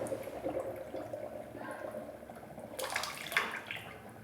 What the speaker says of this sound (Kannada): ಈಗ ಇಲ್ಲಿ ನೀರು ಹೋಗಿ ಇಲ್ಲೇ ಬೀಳುತ್ತೆ ಡೀಪ್ ಕ್ಲೀನಿಂಗ್ ಶುರುವಾಗಿದೆ ಅಂತ ಅರ್ಥ